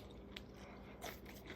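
Crispy breaded green beans cooked in an air fryer are bitten and chewed, giving a few faint, brief crunches close by, with quiet pauses between them.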